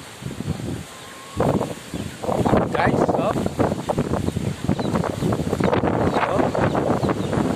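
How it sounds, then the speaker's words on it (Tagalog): Strong typhoon wind in Isabela, Philippines, buffets the microphone in loud, rough gusts that roar and rustle almost continuously. "sobrang lakas ng hangin"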